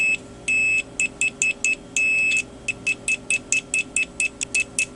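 A UNI-T UT-70D multimeter's continuity beeper sounds a shrill, close electronic tone in uneven bursts, a few long beeps and many short stuttering ones, each starting and stopping abruptly as the probes make and break contact.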